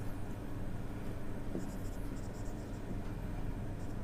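Pen or marker scratching steadily across a writing surface while a matrix solution is written out, close and soft with small strokes and taps over a constant background hiss.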